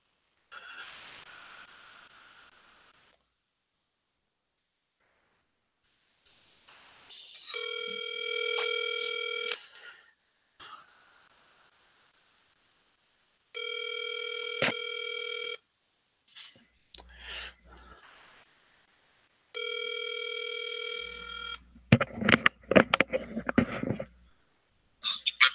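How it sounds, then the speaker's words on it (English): Outgoing telephone ring tone for a real estate cold call, several loud, steady ring bursts about two seconds long separated by pauses, alone without talk, followed by a brief burst of broadband noise near the end. "Let's try to get Ahmed on the phone"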